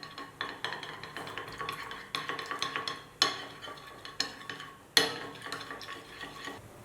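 A utensil beats two eggs with a little milk in a dish, a quick series of clinks and scrapes against the sides, close up and with no talk.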